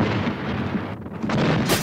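A small bomb goes off with a dull, rumbling blast, a broad low roar that swells and lingers, followed by a crackling burst near the end.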